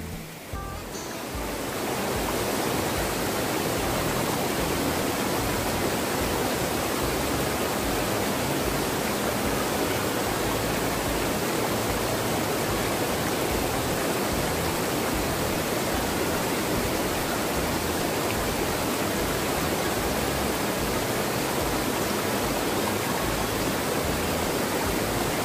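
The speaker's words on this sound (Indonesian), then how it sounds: "Bunyi gemericik airnya lumayan membahana, mirip seperti deburan air terjun." A loud, steady rush of a rocky forest river in Lembah Kaliandra, like a stream tumbling over rocks, booming like a waterfall, continuous and close with no voices.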